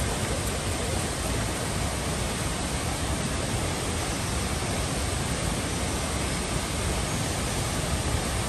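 Glencar Waterfall in Ireland pours in the rain as a dense, constant roar of falling water, loud and unbroken throughout.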